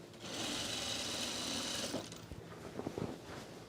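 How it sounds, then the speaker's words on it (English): A sewing machine stitches scrap fabric into mulch mats, running in one steady, close whir for about a second and a half before stopping, followed by scattered knocks and handling noises. "Who said sewing isn't a workout?"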